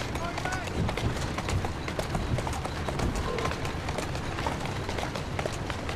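Hoofbeats of a horse galloping in Assassin's Creed Syndicate, a steady fast clip-clop rhythm running throughout, with a voice speaking over it.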